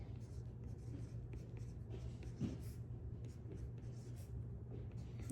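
Quiet scratching of a pen moving across paper, close and continuous over low steady background hum.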